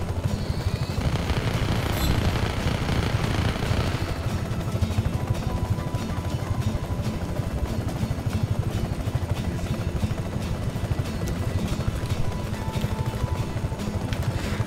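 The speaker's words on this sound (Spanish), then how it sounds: "voy a estacionar mi helicóptero en algún lugar donde no me puedan destruir el helicóptero" Helicopter in the video game Just Cause 3, a steady low rotor drone held throughout with a brief higher whine near the start, loud and continuous with no talk.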